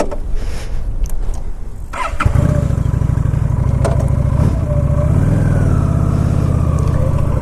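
A 2014 Honda Shadow 750 Aero motorcycle cranks briefly, fires up, then settles into a steady, loud, close idle with a deep lumpy throb.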